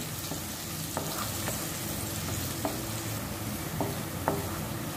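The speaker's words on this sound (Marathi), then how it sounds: "2 चमचे आला लसूण मिरची कोथिंबीरची पेस्ट घालून कांद्यात व्यवस्थित परतून घ्यायची आहे।" A ginger, garlic, chili and coriander paste sizzles with onions in oil in a pan, giving a steady close frying hiss punctuated by several light spatula taps.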